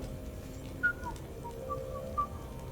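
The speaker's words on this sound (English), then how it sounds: "Are you whistling?" A game character in Mass Effect whistles a few short, thin, high notes in a quiet scene, soft and sparse against a low steady background hum.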